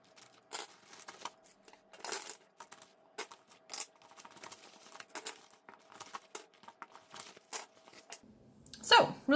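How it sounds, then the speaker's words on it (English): A greeting card torn by hand down the middle, giving close, quiet bursts of crinkly paper ripping spread across the stretch, ending in a louder rip. "if you just tear it down the middle, you can just tear this"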